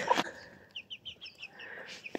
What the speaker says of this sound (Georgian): კრუხი თავისი 3 წიწილით აქ არის